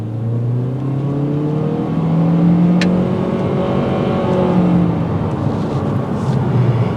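A 2022 Honda Civic Hatch Sport accelerating hard in sport mode, its engine note rising steadily and droning loudly from inside the cabin for several seconds, with no talking.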